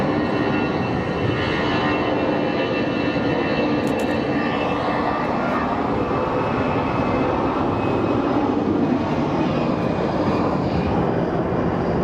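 Jet engines of an Alaska Horizon Embraer in retro livery fill the air at Sky Harbor Airport with a loud, continuous broadband roar, with a few faint clicks and no talking.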